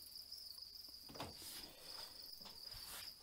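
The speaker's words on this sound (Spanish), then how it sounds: "pues cajas con grillos" House crickets chirp in a steady, shrill trill from breeding boxes, quiet and close, with faint scratchy rustling of movement underneath.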